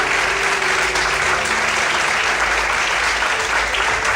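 A church congregation claps loudly in strong applause for the Lord during a sermon, a thick, steady roar of hands filling the room without a break.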